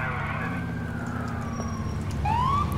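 An ambulance siren in the video game GTA IV wails with sliding up-and-down tones over a low rumbling engine, growing louder near the end.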